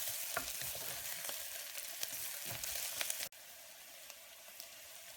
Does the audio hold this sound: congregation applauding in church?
no